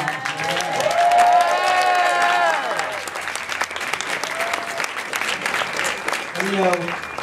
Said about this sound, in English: you should applaud a lot